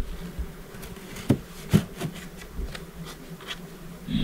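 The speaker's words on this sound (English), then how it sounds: "having a few of these crazy wild bees" Wild honeybees buzz around an open hive, a soft, continuous droning hum outdoors, broken by a few sharp knocks and rubbing sounds as the hive is handled.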